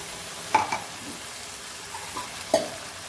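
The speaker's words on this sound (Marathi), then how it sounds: "पाणी टाकून घेऊ आता." Fish curry sizzling in a pan as water is poured in, a steady hiss broken by two sharp metallic utensil clinks and no talking.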